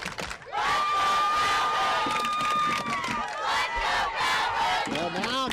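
Crowds at a high school baseball playoff game between Berwick and Jewel Sumner cheer, whoop and shout loudly and continuously, with a sustained whistle or horn tone rising above the din for several seconds.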